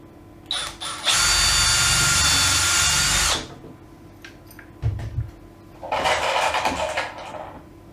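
A power drill drives a screw into wood, probably floorboards, in two loud close whirring bursts, a long one followed by a shorter one after a pause with light knocks between them.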